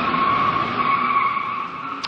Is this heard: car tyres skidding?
yes